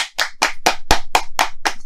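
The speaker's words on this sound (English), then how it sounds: "Everybody clap your hands." Several people clap their hands in unison, eight sharp, evenly spaced claps about a quarter second apart, close and crisp with silence between beats.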